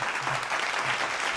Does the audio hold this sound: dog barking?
no